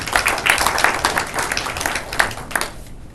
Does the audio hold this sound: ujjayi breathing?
no